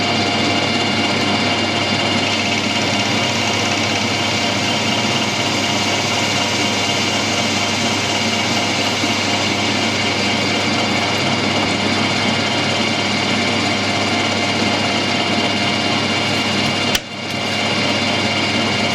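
A lathe cuts aluminium with a carbide-tipped tool, a loud, continuous whirring hum that runs steadily throughout and breaks off briefly near the end.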